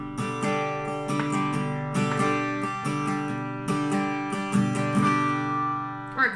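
Acoustic guitar strummed in a basic down, down, up, up, down pattern, bright full chords in a steady repeating rhythm, played close and alone for several bars with no talking.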